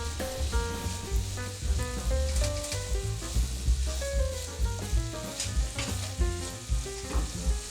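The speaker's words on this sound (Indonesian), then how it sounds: "Setelah butter dan apel tercampur rata, kita masukkan gula pasir." Apples and butter fry in a pan while sugar goes in, a dense, continuous sizzle with the crackle of stirring and scraping, close and moderately loud, with no voices.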